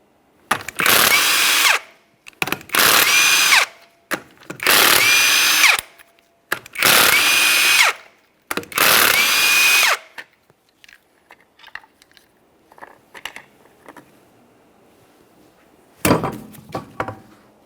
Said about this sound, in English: remove all 5 of your 19mm lug nuts